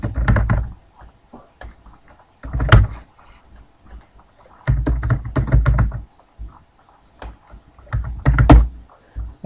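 Bursts of clicky computer keyboard typing come close and fairly quiet, in uneven clusters separated by short pauses, with no talking.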